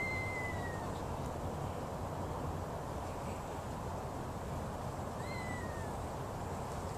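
Feral kittens outdoors by a fence give two faint, thin meows several seconds apart over a steady hiss of background noise.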